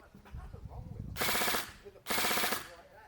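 An SLR CQB gel ball blaster fires on full auto in two rapid, rattling bursts of about half a second each, loud and close, with a short pause between bursts and quiet handling noise before them.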